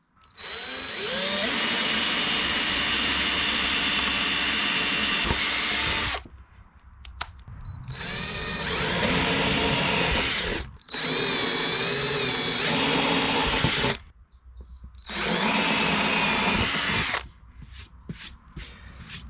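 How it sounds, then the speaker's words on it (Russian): A power drill with a 3 mm bit whines loudly in several bursts of a few seconds each, drilling holes, separated by short pauses, close by and with no voices. "Вот такой у меня инструмент есть сегодня под рукой, и сверло я взял где-то 3-миллиметровое"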